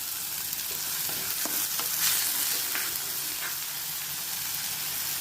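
Onion, garlic and curry leaves sautéing in hot oil in a clay pot for Kerala-style fish curry, a steady close sizzle with occasional stirring scrapes throughout, no talking.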